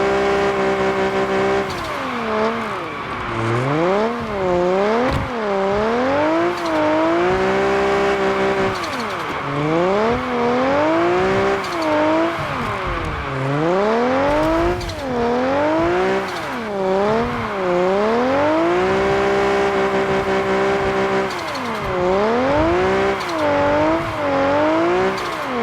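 Car Parking Multiplayer 2 game car drifting, a loud continuous engine whine sweeping up and down in pitch with repeated revving surges and tire-squeal texture, alone without talk.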